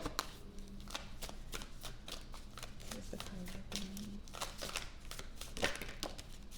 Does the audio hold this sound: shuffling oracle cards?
yes